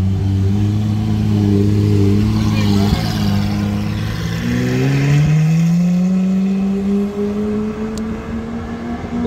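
A Lamborghini Aventador sports car passes on a street in Juan-les-Pins, its loud engine rising in pitch as it accelerates by, with voices and crowd noise around it.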